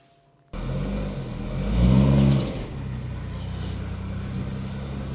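BMW M140 with a B58 engine accelerating hard on an icy-day test drive, the engine note swelling into a loud rising surge before easing back to a steady, sustained drone, with no voices.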